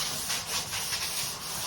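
Soft, steady rubbing of sandpaper across a flat door surface, light hand-sanding strokes repeating at a gentle rhythm, close by with a faint hiss.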